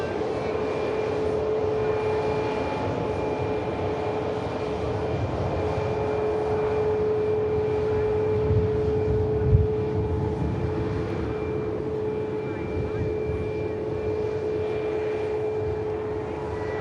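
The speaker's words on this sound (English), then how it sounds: "The Ice Max rolls past us." An Icelandair Boeing 737 MAX rolls past on the ground, its jet engines giving a steady, fairly close rumble with a sustained whine on top and no voices.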